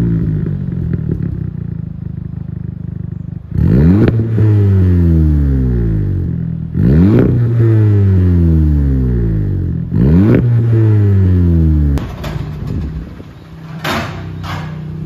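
A Volkswagen Golf GTI 7.5 with a new complete stainless exhaust revs hard three times, each rise and fall loud and close, followed by a rumbling idle with a throaty exhaust note.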